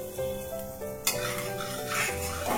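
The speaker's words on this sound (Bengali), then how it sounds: "এবার এটাকে ভালো করে নেড়ে হিংটাকে আমি ভেজে নেব" Asafoetida and a whole dried red chili fry in hot oil while being stirred, giving a steady sizzle with scraping and clinking of a utensil against the pan, and a louder burst of spitting about halfway through, under background music.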